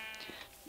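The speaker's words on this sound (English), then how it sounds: "a lot of sheep" Sheep in the Minecraft survival video game let out a brief, synthetic bleat, short and fairly quiet with nothing else over it.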